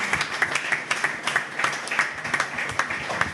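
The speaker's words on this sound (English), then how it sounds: "Round of applause for Barry, everyone." A live podcast audience gives a round of applause: fairly close, evenly paced clapping with regular sharp hand strikes repeating through the whole stretch, steady in loudness.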